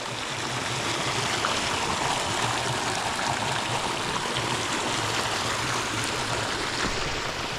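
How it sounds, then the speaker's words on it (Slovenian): The Butoniga stream in central Istria, a creek with pools and small cascades, rushes and burbles steadily up close. The broadband water noise holds even and continuous throughout, with no voices. "Zdaj sva pa prišla do potoka Butoniga."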